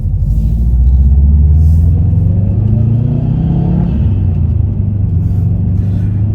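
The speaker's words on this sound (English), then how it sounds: "It's a symphony of turbo noise and boxer engine all coming together to create this amazing soundtrack." 2003 Subaru Impreza WRX STi with a turbo boxer engine rumbling deep and loud while driving, its low throbbing note swelling gently under throttle over a steady road drone.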